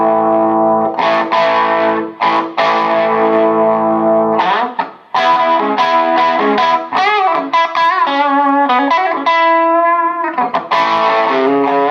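An electric guitar plays through an amp set for a light, mild distortion, with sustained chords and single notes ringing loud and close. No one speaks.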